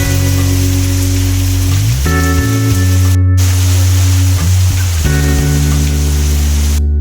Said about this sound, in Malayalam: പുറത്തൊക്കെ നല്ല മഴയാണ്.